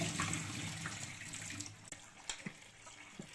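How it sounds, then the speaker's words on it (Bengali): A water tap runs into a basin, draining water in a steady, soft, hissing rush with a few faint knocks and splashes near the end, fairly quiet and without voices. "কলটা খুলে দিয়ে এই যে দেখুন সাদা জলটা ফেলে দেবো এইভাবে।"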